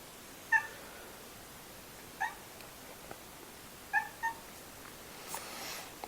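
A pet cat named Odin meows in a truck workshop, giving four short, fairly close calls spaced over several seconds in a quiet room, with a faint clatter near the end.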